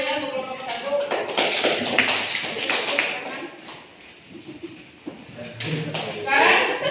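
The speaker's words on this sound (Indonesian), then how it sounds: "beri tepuk tangan ya untuk kelompok 1" Classroom applause for a student group in an Indonesian school lesson, a scattered burst of hand clapping from students that rises and fades over several seconds, mixed with chatter and a teacher's voice.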